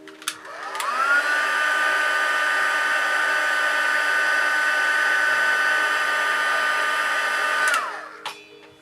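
A heat tool blows steadily while heat setting blush paint, a close, loud whine and airy rush that spins up, holds for about seven seconds, then winds down.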